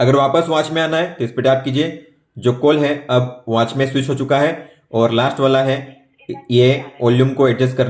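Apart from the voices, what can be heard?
None of the usual background noises is heard.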